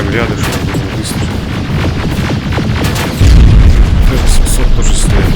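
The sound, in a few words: gunshot in the video game Terminator: Resistance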